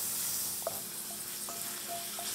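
A splash of wine hits a hot pan to deglaze the cooking juices, giving a steady soft sizzle with a few brief clinks of utensils against the pan, heard close with no talking.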